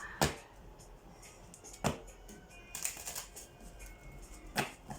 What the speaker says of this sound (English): I'm just aligning the cards.